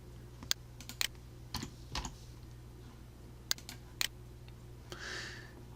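Short command typed on a computer keyboard while drafting windows in architecture software: a few sharp key clicks in small bursts separated by pauses, close and quiet, with no voices.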